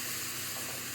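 Potatoes for a white potato curry frying in a little oil, giving a steady, close, continuous sizzle and hiss with no pauses.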